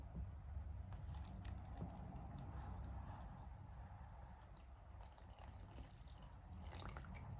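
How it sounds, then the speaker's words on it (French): Water is poured into a self-heating dish, heard as a faint trickling and dripping over a low background hum, with small splashes growing a little busier toward the end. "vous versez l'eau à l'intérieur de ce produit qui a un trait"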